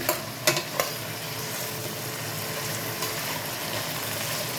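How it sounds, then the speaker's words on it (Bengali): Vegetables for Cantonese noodles sauté in a pan with a steady, close sizzle, with a few sharp clinks of a utensil at the start. "এবার এটা পুরোটা হালকাভাবে সাতে করে নিতে হবে"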